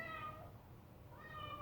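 A pet cat gives two short, soft meows, one at the start and another near the end, with quiet room tone between them.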